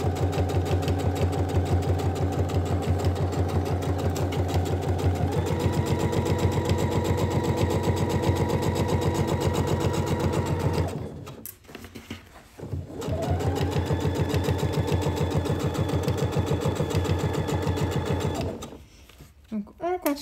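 A sewing machine running a long seam in a fast, even chatter, close and loud, pausing briefly near the middle and again at the end before restarting.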